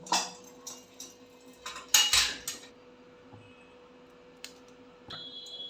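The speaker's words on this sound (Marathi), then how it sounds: "हे भांडे मी आता खाली काढून घेते आहे" A metal cooking pot of melted jaggery comes off a gas stove with a run of close clanks and clatters. Quiet follows, broken by one more faint knock and a closing clink.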